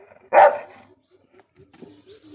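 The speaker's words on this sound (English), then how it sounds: "Sit, sit, sit, sit. Bark. Bark. Bark." A single loud bark from a dog answering a command, sharp and close. Faint whimpering or soft vocal sounds trail off quietly in the seconds after it.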